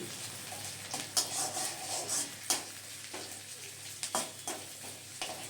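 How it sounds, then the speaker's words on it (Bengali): Chopped ginger, garlic and onion fry gently in a pan for sarson ka saag. A quiet, soft sizzle is broken by intermittent close stirring scrapes, with no speech. "পাঁচ থেকে ছটা কুচি করে কেটে রাখা রসুন এগুলোকেও আমি তিন থেকে চার মিনিটের জন্যে নেড়ে চেড়ে নিয়ে একটু ভেজে নেব"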